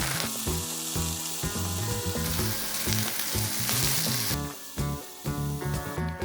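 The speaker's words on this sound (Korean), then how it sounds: "자른 버섯은 기름을 두른 팬에 앞뒤로 노릇노릇하게 구워주세요." Sliced king oyster mushrooms pan-frying in oil, a loud continuous sizzle and crackle filling the whole stretch, with a brief dip partway through and no talking.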